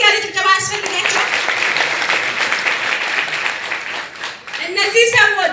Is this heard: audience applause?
yes